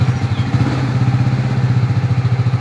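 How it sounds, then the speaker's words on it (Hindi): A Kawasaki Vulcan 650S motorcycle engine idles close by with a steady, loud, low pulsing thrum right after starting, with no voices. "चलते हैं जी, इसको स्टार्ट करते हैं बाइक को।"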